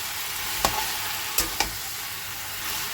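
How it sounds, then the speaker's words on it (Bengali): Soybean curry sautéing in a pan, a continuous loud sizzle with three sharp scraping knocks as a spatula stirs the pieces. "এবার এটা দিয়ে একটু কষিয়ে নেব।"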